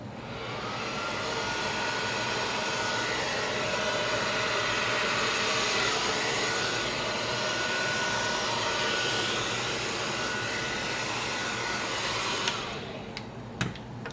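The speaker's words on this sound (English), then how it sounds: "I'm going to cover it up with the blow dryer on low." A hair dryer on low blows in a continuous, steady whoosh for a long stretch, ending with a few clicks and clatters.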